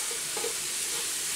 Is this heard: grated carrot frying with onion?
yes